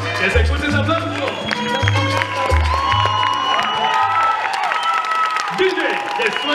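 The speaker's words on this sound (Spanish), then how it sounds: "Que se escuche ese aplauso." Applause and cheering from the audience at a school dance competition in Madrid, a dense sustained clapping crowd with whoops, heard under an announcer's voice with low music thumps.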